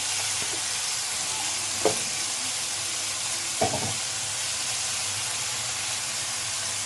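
Washed, soaked basmati rice goes into a hot pan in a home kitchen, giving a steady, close sizzling hiss with two soft stirring knocks and no talking.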